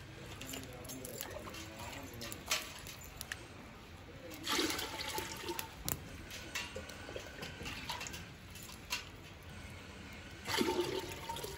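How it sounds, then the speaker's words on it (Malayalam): Water poured into a cooking pot set on a wood-fired hearth for medicinal rice porridge, about three liters, a steady splashing gush with a few louder surges, close and alone with no talk. "ഞാനൊരു 3 ലിറ്റർ വെള്ളം അങ്ങോട്ട് ഒഴിച്ച് കൊടുക്കാണ്."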